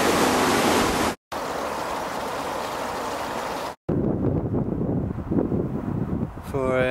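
Strong canal flow at the point where the Itchen splits into river and canal channels near Winchester, heard as a steady, dense rushing wash close by, briefly cut twice, with a faint high chirp near the end.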